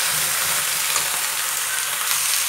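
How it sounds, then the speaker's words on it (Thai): Bitter melon and pickled mustard greens stir-fry in a hot pan, giving a steady, bright sizzle that holds close and even for a couple of seconds with no voices. "ผัดไปเรื่อยๆให้มะระสลดนะคะตามด้วยผักกาดดองค่ะผัดไปเรื่อยๆเลยนะคะ"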